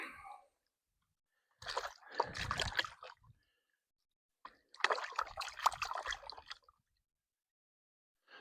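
Gold pan swirled and sloshed in shallow creek water, two bursts of splashing and trickling separated by quiet, close and fairly soft with no talk.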